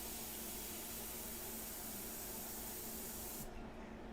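An airbrush spraying India ink hisses steadily and loudly at close range, an unbroken airy jet that holds for several seconds before its upper sheen cuts off abruptly near the end.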